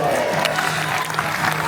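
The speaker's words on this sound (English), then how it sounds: "a round of applause" Audience at a natural bodybuilding show claps for competitors on stage, a busy crowd wash with scattered voices mixed in.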